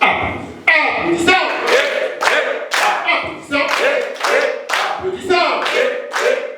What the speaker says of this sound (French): Nous allons applaudissons.